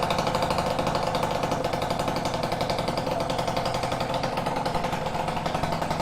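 Peugeot Fox 50cc moped with a Leovince ZX silencer and Malossi exhaust, idling and warming up close by, a steady rapid two-stroke buzz with a fast regular pulse throughout.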